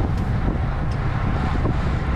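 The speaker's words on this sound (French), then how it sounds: "Donc, du vent." Steady wind roars and buffets the microphone during a bicycle race near Ribérac, a dense low rumble with no pauses and no talk over it.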